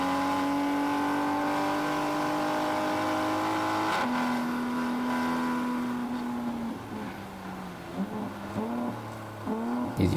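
A turbocharged Toyota Supra on a time-attack track pulls at full throttle, its engine droning loud and steady with rising tones, then a gear-shift drop and uneven, bumpy revs as the pull continues.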